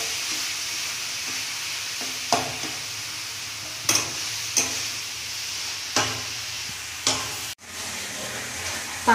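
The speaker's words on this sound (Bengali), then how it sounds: "পাঁচ মিনিট ধরে ভাজলাম পেঁপেটাকে গাওয়া দিয়ে।" Boiled papaya fries in ghee over a full flame with a steady, close sizzle, broken every second or two by sharp scrapes and taps of a stirring spatula.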